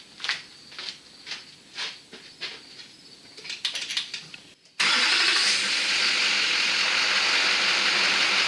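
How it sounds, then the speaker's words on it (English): Duramax diesel pickup truck engine starting after a fuel filter replacement: a few seconds of rhythmic starter cranking, then the engine catches and settles into a loud, steady, close idle without talk. "that starts up a lot better. Before it cranked for a while before it fired up"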